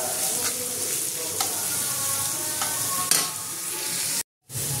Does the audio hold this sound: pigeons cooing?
no